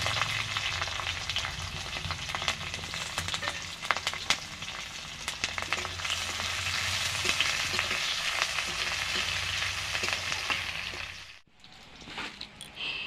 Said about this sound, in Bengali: এখন লঙ্কা আর রসুন থেতোটা দিয়ে দিচ্ছি।